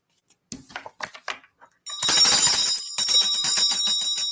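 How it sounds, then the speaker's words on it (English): A metal hand bell is struck, giving bright ringing dings that sustain and shimmer for a couple of seconds, preceded by a few soft clinks. "I got to ding my bell again."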